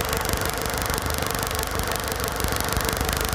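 A Honda Civic Ferio engine idles with a steady, even drone that holds close and constant throughout, with no talking over it.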